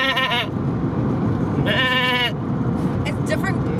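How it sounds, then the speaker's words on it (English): Sheep of several types bleating in a pen or field, two clear wavering calls separated by a pause, over a steady rumbling background. "It's different types of sheep"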